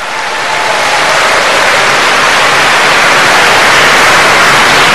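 At a Sunday healing Mass, a large congregation bursts into loud, sustained applause for Christ the King, swelling in the first second into a dense, roaring wall of clapping that holds steady throughout.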